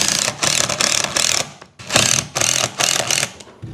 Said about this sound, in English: I'm gonna go ahead and put some short screws in here and go ahead and drive some more up into this one.